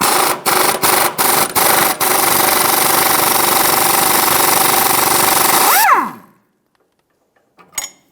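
Impact wrench or power tool removing an 18mm sway bar link nut on a 2007-2017 Ford Expedition front suspension, loud continuous hammering whir with several short bursts first, then stopping abruptly, followed by a faint clink.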